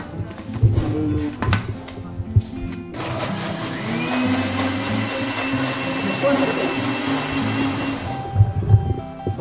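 A kitchen blender whirs loudly for several seconds, blending sesame milk with nuts, guarana and honey, with clunks and handling noises before and after and voices talking around it.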